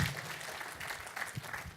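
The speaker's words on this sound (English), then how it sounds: "Give him a round of applause." Faint, scattered clapping from a small group, a steady patter of hands lasting under two seconds.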